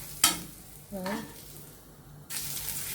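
Chicken pieces go into hot olive oil in a pan for a creamy lemon chicken pasta, with a sharp crackle and sizzle at the start, a short stirring scrape, then a sudden louder burst of frying hiss near the end.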